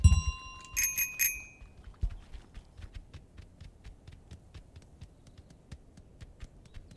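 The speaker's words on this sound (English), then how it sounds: "That's a good bell. It made a good sound." A bicycle bell in Untitled Goose Game rings brightly a few times at the start, followed by a steady series of soft, rapid clicking goose footsteps.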